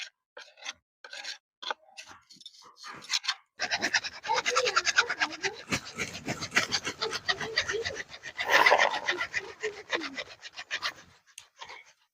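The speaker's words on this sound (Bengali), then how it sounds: "এই আবিরটা শুকিয়ে গেছে। আমি একটু এইভাবে নেড়ে নিচ্ছি, আরো ভালোভাবে শুকিয়ে যাবে।" Homemade abir colour powder made from marigold and beetroot, stirred by hand while drying: soft dry rubbing and scraping strokes, close and fairly quiet, in short irregular bursts that turn into steadier continuous rasping.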